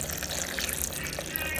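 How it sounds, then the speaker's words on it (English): Coconut water pours into a blender for a vegan sauce, a steady splashing gush of liquid running throughout at moderate level with no talking. "we're gonna put some coconut water."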